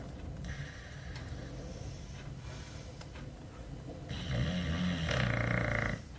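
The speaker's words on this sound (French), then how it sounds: "Et mon chien, il ronfle, c'est un truc de fou." An older dog snores close by in slow, repeated breaths that grow noticeably louder toward the end.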